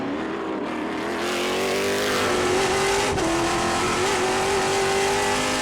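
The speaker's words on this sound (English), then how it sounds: "That's Lonnie there in the Camaro right ahead. So, oh, see, he's just going right through one to let them by." Trans Am race cars at Portland roar past, with a Camaro among them, a loud sustained engine howl rising and shifting in pitch as cars sweep by close.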